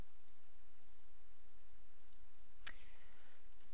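One sharp computer mouse click, quiet and close, in an otherwise near-silent room.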